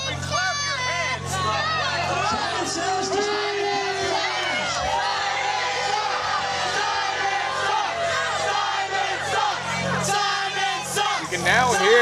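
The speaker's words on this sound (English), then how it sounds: "You can now hear the BRAWL USA faithful now chanting at Simon that he sucks" Wrestling crowd at a BRAWL USA baseball-themed event chanting insults at a wrestler, a dense, loud roar of many voices with rhythmic shouted chanting filling the whole stretch.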